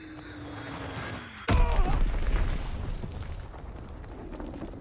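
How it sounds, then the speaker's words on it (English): A large bomb blast in the tactical shooter Squad, hardpoint mode: a sudden heavy boom bursts in after a quiet stretch, then rolls on as a long rumbling, crackling decay that stays loud for several seconds with no voices. "Enemy bomb incoming."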